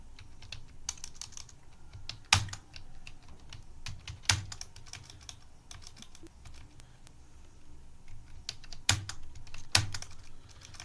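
Fingers type on a computer keyboard while entering data in TallyPrime accounting software. Rapid, soft key clicks come close and quiet, with a few sharper keystrokes standing out.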